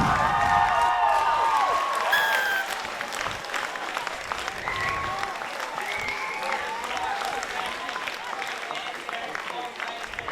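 Crowd applauding at a Queensland Premier Rugby match between University and Bond: steady, dense clapping fills the whole stretch, loudest early, with a commentator talking over it.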